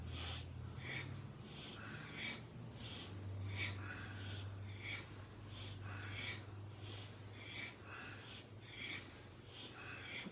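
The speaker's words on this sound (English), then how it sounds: "It's like a sniff. Through the nose, in and out." Quick rhythmic breathing in and out through the nose during a yoga twist session, short sniff-like puffs repeating evenly about every half second, close and alone.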